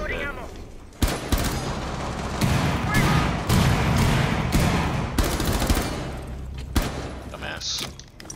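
Bursts of gunfire in Rainbow Six Siege, repeated volleys and rapid automatic fire with heavy thumps, loud and close, over a low steady background.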